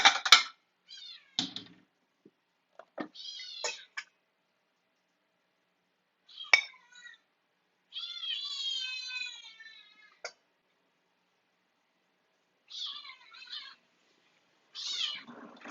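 A cat meows several times, close and clear, with varied drawn-out calls separated by silence and a few faint clinks.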